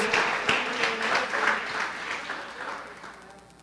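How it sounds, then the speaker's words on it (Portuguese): Church congregation applauding during a service, a lively burst of clapping with scattered voices that gradually fades toward the end. "Você pode então aplaudir ao Senhor com o seu melhor?"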